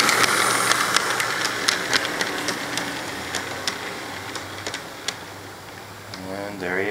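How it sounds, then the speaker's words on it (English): A light engine locomotive moving westbound past signals, with an engine rumble and hissing under repeated sharp clicks or clanks, fading slightly toward the end. "Here we have a light engine move,"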